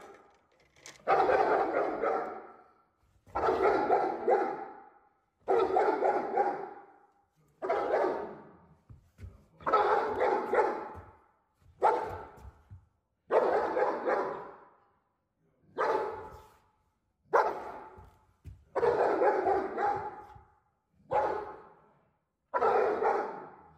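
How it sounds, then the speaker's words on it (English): A Cane Corso barks during protection training, loud and close, in about a dozen deep bursts of barking separated by short pauses, with no talk over it. "This is what a trained dog looks like."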